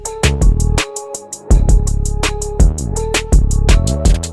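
Layered electronic beat made in FL Studio with an extra percussion layer whose tone resembles a voice saying "woo," repeating in a steady rhythm over punchy kicks and tonal synth hits, loud and upfront with no talk.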